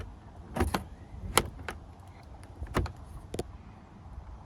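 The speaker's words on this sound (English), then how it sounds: "Now we just need to pry out the panel like this." A BMW X5 door panel is pried off with a few sharp plastic clip pops and clicks, spaced irregularly and close by, over a faint background hum.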